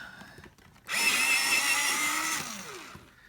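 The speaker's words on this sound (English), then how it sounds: "I love my electric sharpener." Electric pencil sharpener grinding a colored pencil, a loud whirring burst lasting about two seconds that winds down, heard alone and close.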